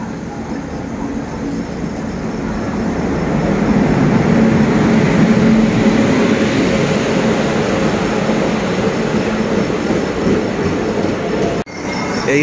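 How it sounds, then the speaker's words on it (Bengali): A passenger train at a railway platform on the way to Haridwar, a loud continuous rumble of moving carriages and wheels that swells and holds steady, close by, then cuts off abruptly near the end; no speech. "ট্রেন দিয়ে দিয়েছে প্ল্যাটফর্মে"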